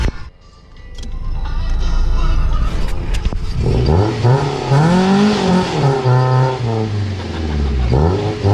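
A car engine revs hard and steadily during a burnout, pitch sweeping up and down in loud sustained surges with a rough low rumble, after a brief quieter lead-in.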